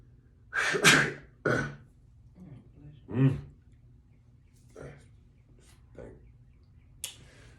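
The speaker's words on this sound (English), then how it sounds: "I'm about to sneeze." A single sharp sneeze bursts out near the start, followed by a second short burst and a few breathy sounds, all close and loud in an otherwise quiet indoor space.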